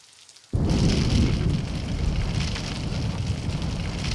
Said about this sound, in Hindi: देख बाहर छमाछम बारिश हो रही है